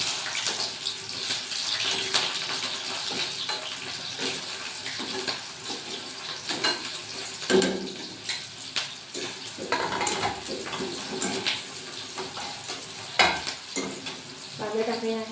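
Chopped onions drop into hot oil with garlic already in the pan and fry with a steady sizzle. Stirring clatters and scrapes at irregular moments, close and alone with no talk.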